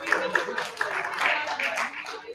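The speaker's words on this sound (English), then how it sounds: "let's give them a round of applause for the great finals" Scattered applause from a debating championship audience for the grand final speakers, a few distinct claps mixed under overlapping voices and chatter for a couple of seconds.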